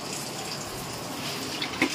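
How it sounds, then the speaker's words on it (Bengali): Rice being rinsed under running water from a tap in a home kitchen, a soft, steady stream with a couple of small splashes near the end, fairly quiet and close, no talking. "চালটা ধোবো।"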